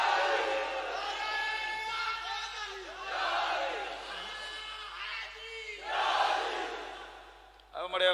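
Religious gathering crowd chanting the Haidri slogan (Nara-e-Haidri) in unison, a loud sustained roar of many voices rising and falling in waves for several seconds, with a sharp swell near the end.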